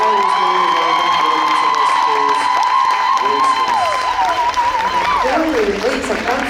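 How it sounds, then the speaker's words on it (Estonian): Audience at a dance festival awards event applauding and cheering, with loud sustained clapping mixed with high whoops and shouts, and a voice or tones gliding above the crowd. "Suur aplaus"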